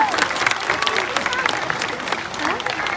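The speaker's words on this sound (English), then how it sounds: "He loves the applause." Crowd applause at an aquarium seal show, a continuous wash of clapping from a sizable audience with voices and cheers mixed in, steady and fairly loud throughout.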